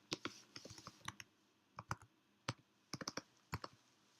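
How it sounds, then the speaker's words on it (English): Keys clacking on a WayTools TextBlade, a compact Bluetooth keyboard, as someone types: quick close taps in short irregular bursts separated by brief pauses, quiet and crisp with no voices. "So this is typed on TextBlade."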